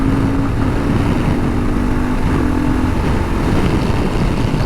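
Kawasaki KLR650 motorcycle, roughly 40 horsepower, riding along with a steady, loud engine drone mixed with wind rush, continuous throughout without talk.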